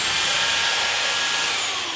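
A power sander works steadily across a wooden stool top, giving a loud, continuous close-up hiss and whir of abrasive on wood with no breaks.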